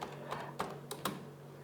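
Keys tapped on a computer keyboard while entering a command in a terminal, four or five separate clicks with uneven gaps over a low steady hum, close and fairly quiet, no voices.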